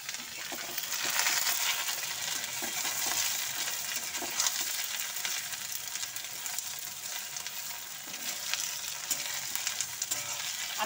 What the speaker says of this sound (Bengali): এই সাদা তেল দিয়ে এবার আমি এইগুলো ভেজে নেবো।